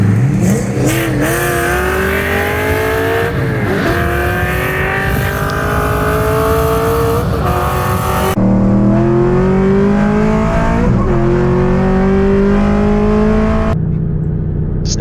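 Supercharged Ford Mustang and cammed LS cars drag racing: loud engines scream upward through repeated rising rev sweeps and gear changes, close and continuous, with abrupt cuts between segments and no talking.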